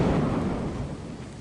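Thunder rumbling after a lightning strike in a video game, a loud, dense low roar that slowly fades over a second and a half with no speech.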